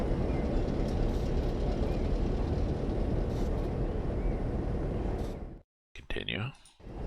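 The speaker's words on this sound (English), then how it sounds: "Actually, geez, the train noise seems a little loud." In Train Simulator 2020 on the Springfield Line, a train engine drones loudly with rapid clicking beneath, then cuts out abruptly before resuming with a brief tonal sound and talk.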